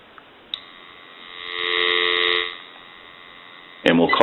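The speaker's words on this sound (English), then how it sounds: "Go ahead and give you some dial tone" A GE 6.0 cordless telephone handset gives a steady, even dial tone after a click, holding for a few seconds before it cuts off and a recorded voice begins.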